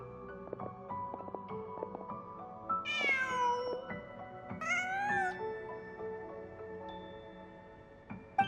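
Cat meowing in the video game Genshin Impact, two distinct meows a couple of seconds apart over soft game background music and ambience.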